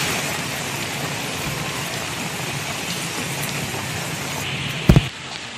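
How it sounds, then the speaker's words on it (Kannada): Heavy continuous rain pouring in Udyavara, Udupi, a dense steady hiss of downpour on surfaces throughout, with a brief louder thump near the end. "ನಿನ್ನೆಯಿಂದ ಧಾರಾಕಾರವಾಗಿ ಮಳೆ ಸುರಿತಾ ಇದೆ"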